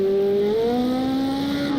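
A race car in Project CARS 2 at the Nurburgring accelerates hard out of a corner, its engine note climbing steadily through the revs, loud and close, with a second engine tone rising alongside.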